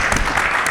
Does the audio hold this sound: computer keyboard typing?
no